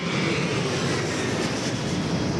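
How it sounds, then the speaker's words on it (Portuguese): A jet airliner taking off or landing at Congonhas airport in São Paulo, a steady, loud broadband engine roar that fills the whole moment without breaks or voices. "A cada 2 minutos, um avião decola ou pousa aqui em Congonhas."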